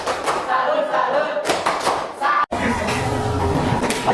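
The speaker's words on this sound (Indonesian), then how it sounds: "Tepuk salut." A group in a school coaching session gives a rhythmic salute clap, with bursts of patterned clapping and thumps, a brief pause, then more clapping, with voices mixed in.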